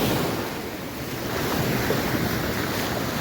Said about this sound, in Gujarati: પાણીમાં મોજા બધા બહુ જોરદાર મારે